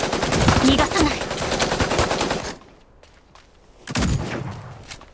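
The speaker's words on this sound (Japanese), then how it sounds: "銃声よ、気を引き締めて。" Dense, rapid bursts of automatic gunfire in the video game Mecharashi fill the first half, stop briefly, then another loud burst erupts near the end, with faint voices mixed in.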